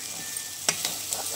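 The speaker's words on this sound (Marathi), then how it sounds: "आता आपण सर्व मिक्स करून घेऊ।" Shev bhaji ingredients mixed in a pan with sev added: a steady close sizzle with a few sharp scrapes and taps of the spoon against the pan, no talking.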